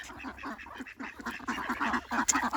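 Ducks quacking in a backyard, a dense run of repeated nasal quacks from several birds close by, with no speech.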